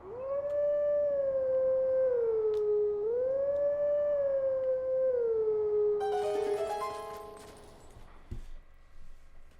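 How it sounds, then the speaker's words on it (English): A wolf howls in the Zelda: Twilight Princess video game, one long sustained wavering call that rises, dips and swells again at close range, followed by a burst of bright game music and chimes near the end. "So as a wolf, howling is our instrument now."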